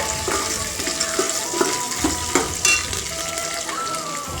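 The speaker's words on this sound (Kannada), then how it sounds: "ಜಜ್ಜಿಟ್ಕೊಂಡಿರೋಂಥ ಬೆಳ್ಳುಳ್ಳಿ, ಫ್ರೈ ಆದಮೇಲೆ" Crushed garlic frying in hot oil gives a steady, close sizzle throughout, with light clinks and scrapes of stirring in the pan.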